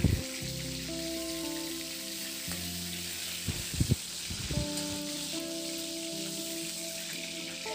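Pointed gourd (potol) pieces fry in hot oil with a steady, close sizzle, and a few brief clatters of stirring come midway.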